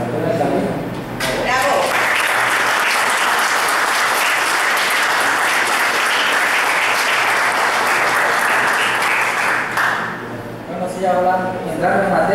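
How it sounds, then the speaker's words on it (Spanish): Sustained audience applause at a literary gathering of poetry readings, a dense wash of many hands clapping for about nine seconds before fading, with voices heard at the start and end. "ojalá podamos tener un aplauso para quien se nos adelantó en el camino."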